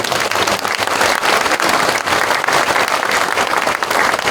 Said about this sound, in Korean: 우리 하나님께 영광과 감사의 박수